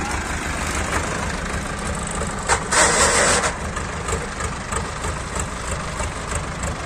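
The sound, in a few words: tractor engine starting and running, Eicher 557 or Sonalika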